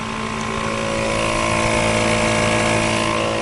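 A portable air compressor runs while inflating an off-road vehicle tyre, a steady, dense mechanical drone with a constant hum, loud and unbroken throughout.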